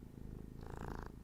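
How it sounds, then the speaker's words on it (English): A pet cat purrs close by in an indoor room, a soft continuous low rumble that swells slightly louder midway, with no talking. "That was my cat"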